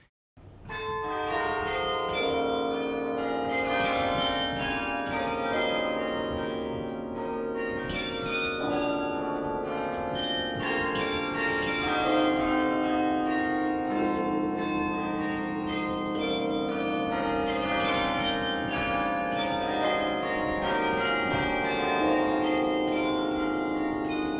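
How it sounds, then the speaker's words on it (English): Carillon bells of Bok Tower ring out in a continuous melodic peal, many bells overlapping with rich ringing overtones and long sustain, loud and steady throughout with no voices. "Playing the Bach Tower carillon is very, very special."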